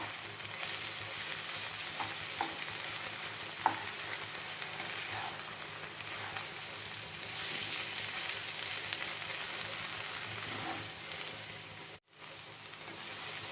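A mixture of gram flour and okra frying in a pan makes a soft, even hiss that runs the whole time, with an occasional faint tap from stirring.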